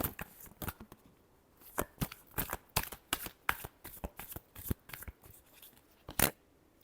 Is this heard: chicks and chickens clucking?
no